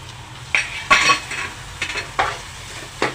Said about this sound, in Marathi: छानपैकी मिक्स करा गॅस फास्ट केलेला आहे